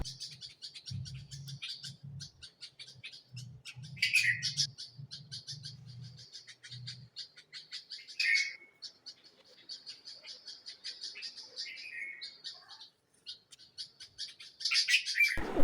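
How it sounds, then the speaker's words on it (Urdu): Small birds chirp and tweet in quick, repeated high bursts for the whole stretch, some near and sharp, others softer, with a low pulsing croak or hum under the first seven seconds. "پرندوں کا چہکنا یا نوک جھونک، یہ بھی سنیں۔"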